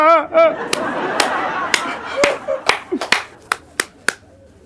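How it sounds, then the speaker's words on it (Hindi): Audience members at a comedy show clap in response to a joke: a brief voice at the start, then a sparse, uneven run of sharp individual claps that thin out and stop. "तालियां"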